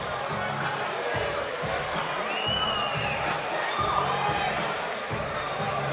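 A hometown crowd at a boxing night cheers and shouts for the winning fighter, a loud, continuous roar of many voices with whoops rising above it, while a commentator's voice sits in the mix.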